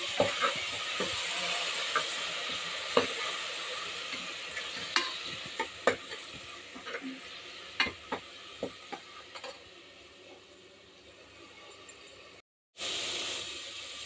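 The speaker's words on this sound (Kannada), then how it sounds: "ಹಸಿ ವಾಸನೆ ಹೋಗೋವರೆಗೂ ಒಂದು ಸ್ವಲ್ಪ ಚೆನ್ನಾಗಿ ಫ್ರೈ ಮಾಡ್ಕೊಳ್ಳಿ." Spices frying in a pan on a home stove, a soft continuous sizzle under repeated scraping strokes of a spoon stirring, scattered clicks and scrapes throughout, with a brief gap of silence near the end.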